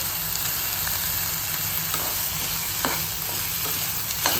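Tender bitter gourd sautéing with onion in a pan, a loud steady frying hiss with occasional soft scrapes and taps of a stirring spoon, close and continuous.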